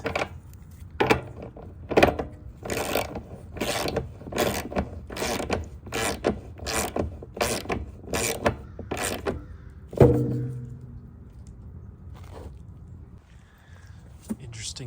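A wrench tightening compression-type fittings on a truck radiator, a rapid series of about a dozen sharp ratcheting clicks close by, followed by a louder clunk and quieter handling noises.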